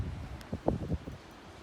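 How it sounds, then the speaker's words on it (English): Cold, gusty northeast wind blows outdoors near the ground, gusting 20 to 30 mph, producing a low buffeting roar with a few stronger swells partway through. "Not doing a good job hiding from the wind, am I?"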